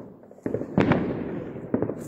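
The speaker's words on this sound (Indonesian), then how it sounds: "Oh itu ada yang main petasan juga ya guys." Firecrackers go off during a New Year celebration in Poland, a few sharp distant bangs with crackling bursts, spaced unevenly over a quiet background.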